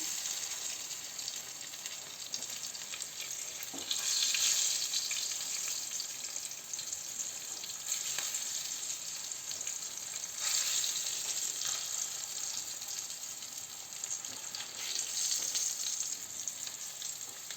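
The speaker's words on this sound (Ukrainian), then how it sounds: "перемішати їх, аби вони не сильно підсмажувалися" Meatless cutlets fry in a pan, giving a soft continuous sizzle with periodic swells as they are stirred and turned, fairly quiet and close, with no talking.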